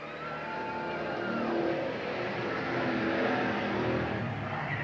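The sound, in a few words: stock cars racing at Eugene Speedway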